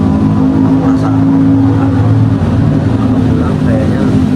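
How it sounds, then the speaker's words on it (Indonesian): Motorbike engine droning steadily nearby on a street, a continuous low rumble filling the whole stretch without clear approach or fade. "sorry kalau ada suara motor, karena emang aku nggak pakai mikrofon"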